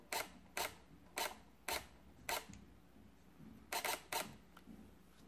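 A Sony a77ii camera shutter fires in short bursts, crisp mechanical clicks spaced about half a second apart with a quick double burst near the end, close and clear in a quiet room.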